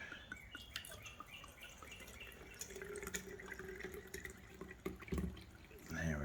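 HEET fuel poured into an Emberlit Fireant titanium siphon stove, a steady trickling, dripping liquid flow running close by for several seconds with a faint voice in the background.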